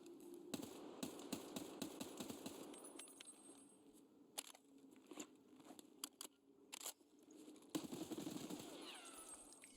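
FAL rifle fire at the firing range in the video game Escape from Tarkov: a quick run of sharp shots at first, then scattered single cracks and a short final burst, loud and close.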